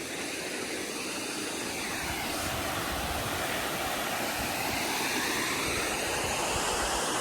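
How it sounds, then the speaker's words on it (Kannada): Water of the Malaprabha river pouring over a small waterfall near Kanakumbi, Khanapur in Belagavi: a loud, dense, unbroken rushing roar, close by and steady throughout, with no voices. "ಇದು ನಮ್ಮ ಮಲಪ್ರಭಾಗ ಹರಿದು ಹೋಗೋದು ನೀರ"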